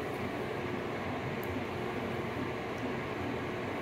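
A compact hand dryer runs steadily for the whole stretch, a loud, even airy whoosh with no breaks and no voices.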